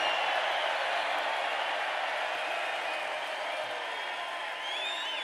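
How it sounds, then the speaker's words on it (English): Large crowd at a Trump campaign rally in a massive Pennsylvania stadium, cheering and shouting in a sustained, loud, dense roar with whistles and whoops on top, steady throughout. "This is a feisty little crowd"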